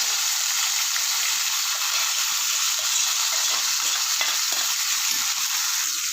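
Boiled broad beans frying in oil give a steady, dense sizzle with a constant bright hiss, close and loud, with faint stirring and no talking.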